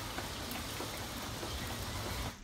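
Steady rain pours down as a dense, even hiss, heard close and continuous with no voices.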